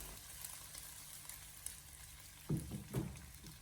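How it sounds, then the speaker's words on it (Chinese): Pork belly slices frying in a wok over low heat give a faint, steady sizzle, with a couple of soft spatula scrapes near the end. "开小火给它煎制一下，把五花肉多余的一些油脂煎出来"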